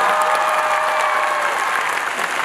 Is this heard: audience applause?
yes